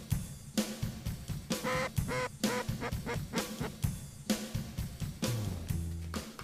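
Canada geese honk repeatedly in flight at a waterfowl hunt near a creek, a dense overlapping chorus of calls with steady rhythm, fairly close, with no talking.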